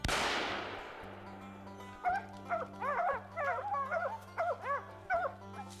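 A hunting dog yips and whines in short, excited bursts over a low, steady mechanical hum.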